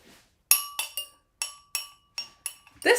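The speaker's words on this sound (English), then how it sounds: "Now we have to stir it." A utensil stirring something in a glass, giving a run of bright, ringing clinks at an irregular rhythm, each one sharp and close with a short fading tail.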